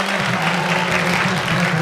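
Dense audience applause at a comedy show, loud, steady and close for a brief burst.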